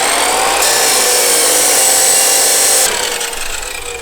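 A power tool cuts metal for a custom transmission mount on a 1JZ-swapped RX7, a loud steady grinding whine that holds for about two seconds and then tapers off, close by with no talk.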